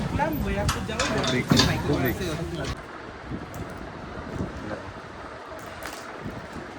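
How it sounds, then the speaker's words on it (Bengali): Strong wind at a river ferry ghat in Serampore, where launches are held back: blustery gusts buffet the microphone, loudest in the first few seconds, then a lower, steadier rush of wind with faint clatter. "জোরে হাওয়া দিচ্ছে বলে লঞ্চ ছাড়ছে না।"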